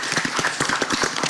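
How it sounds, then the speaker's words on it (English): Audience in a room clapping after a lung cancer discussion, a short burst of scattered hand claps, moderately loud and close, with no talk over it. "we want to clap first"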